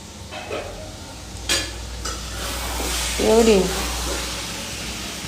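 Vegetables frying in a pan late at night, a steady low sizzle with a few stirring scrapes and clinks, while people talk close by over the cooking.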